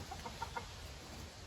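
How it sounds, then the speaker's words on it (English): Chickens cluck faintly in a few quick, soft notes, heard through a window against a steady background hiss. "Chickens."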